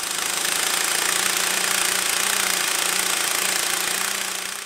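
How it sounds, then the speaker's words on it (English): Air impact gun undoing a tight camshaft sprocket bolt on a Ford Mondeo Mk4 engine: a loud, steady rattling hammer with a continuous buzzing drone, held for several seconds without a break. "I'm going to have to get an air gun to undo this bolt"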